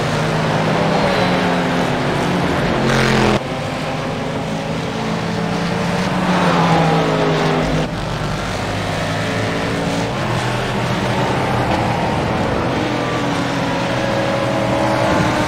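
A race car in a racing video game drives Watkins Glen, with a loud, continuous engine drone that rises and falls in pitch through gear shifts and corners.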